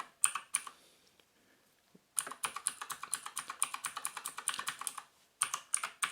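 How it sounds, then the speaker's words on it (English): Fast, crisp clicky typing on a GranVela MechanicalEagle Z-77 mechanical gaming keyboard with blue switches, in two bursts of rapid keystrokes separated by a short pause, close and clear with no talk. "it responds from the first key press and then followed with the subsequent keys"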